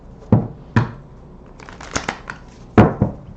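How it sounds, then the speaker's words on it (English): Tarot deck being shuffled by hand, a few sharp riffling snaps and soft papery slides spaced irregularly, close and quiet with no talking. "Okay, shuffling here."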